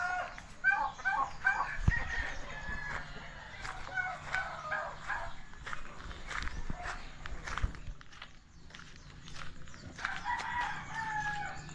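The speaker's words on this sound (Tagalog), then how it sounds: "Lalaki ng mga manok." Chickens on a roadside on Tablas Island, Romblon, cluck and a rooster crows amid footsteps and a dog's bark, all fairly faint, with a few brief murmurs of talk.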